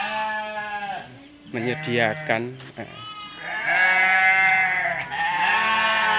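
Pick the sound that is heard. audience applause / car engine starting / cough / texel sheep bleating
texel sheep bleating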